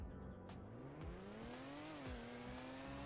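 A Toyota Supra in a video game revs hard, its engine tone climbing and shifting through gears as tires squeal, loud and continuous, with game sound effects layered in.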